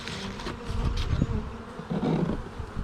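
Honey bees crowded together in a box during queen mating nuc setup, a dense continuous buzzing hum, close and steady, with some swelling and shifting in loudness.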